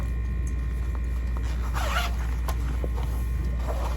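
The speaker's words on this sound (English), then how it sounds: "And then unzip your zipper." A zipper on a handmade Eloise tote bag is drawn open in one steady pull, a brief rasping burst near the middle over low steady background hum, with a few faint ticks of the slider around it.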